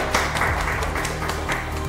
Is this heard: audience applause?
yes